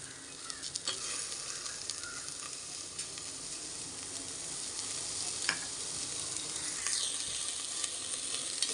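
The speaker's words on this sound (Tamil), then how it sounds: "நல்லா வதக்கி விடலாம்." Chopped vegetables and onions sauté in a pan for masala rice, giving a steady, close sizzle with occasional scrapes and stirring taps, with no voices.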